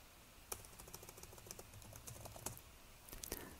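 Keys clatter on a computer keyboard while Markdown list items are entered in a Jupyter notebook, a quiet run of close, irregular clicks with a few sharper strikes.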